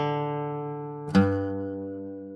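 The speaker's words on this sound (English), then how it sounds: "if this might be your left hand on your piano, for example, it would sound like this" Sustained low piano bass note in the left hand, changing to another root note partway through with a soft attack, ringing alone in a simple bass line for a 1-4-5 progression in G.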